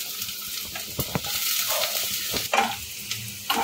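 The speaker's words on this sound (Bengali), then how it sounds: "তো প্রথমে রসুন, আদা আর কাঁচা লঙ্কা কুচিটা দিয়ে দেবো" Chopped garlic, ginger and green chilli fry in a pan with a steady soft sizzle, close by, broken by a few stirring clinks and scrapes.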